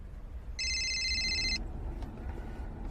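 A telephone gives a single bright electronic ring of about a second for an incoming call, heard over low background rumble.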